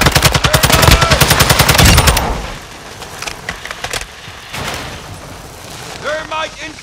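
Rapid automatic gunfire in the video game Call of Duty: Modern Warfare II is loud and close for about two seconds. It then breaks into scattered single shots and distant rumbles, while a voice calls out over the battle.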